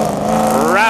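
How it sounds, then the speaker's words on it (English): A four-speed SS convertible muscle car engine revs at a Musclepalooza car show, the pitch climbing steadily as the throttle opens, loud and close with a voice over it. "Four speed SS convertible."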